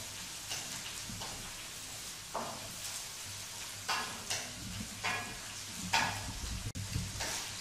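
A chicken and vegetable mixture for fried rice fries in a pan and is stirred, giving a steady close sizzle broken by repeated scraping strokes of the spoon. No one speaks.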